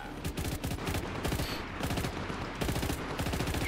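Rapid automatic gunfire from the video game Just Cause 3, dense continuous bursts of shots running throughout, loud and close, with no talking.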